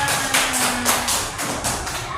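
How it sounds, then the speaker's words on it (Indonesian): A classroom of children and their teacher clap together in a quick, even rhythm, a dense run of close, sharp claps throughout. "tepuk tangan untuk kita semua"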